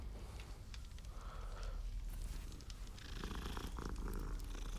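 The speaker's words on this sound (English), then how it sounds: "Oh, got a cat." A cat purrs steadily inside Hogwarts Legacy, the soft continuous rumble close and unbroken, with faint game ambience and chimes rising over it toward the end.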